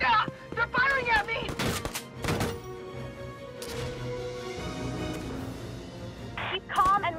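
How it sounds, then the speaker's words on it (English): Gunfire in the Valkyria Chronicles 4 video game at Fort Krest, with sharp repeated shots and bursts and some impacts mixed among game sounds and voices. "Ah, they're firing at me!"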